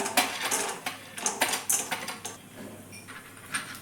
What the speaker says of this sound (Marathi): इकडे तेल छान गरम झाले त्याच्यात आता मी शेंगदाणे टाकून घेते